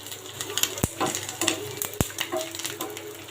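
Beef tripe fries in a pan for a Bardhaman-style bhuna, giving a steady crackling sizzle broken by a few sharp knocks of a utensil against the pan, close and fairly quiet.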